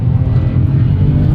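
Close, loud engine roar from a tuned 2008 BMW 335i pulling hard after turbo lag, a dense low growl held steadily through the short burst with no voices.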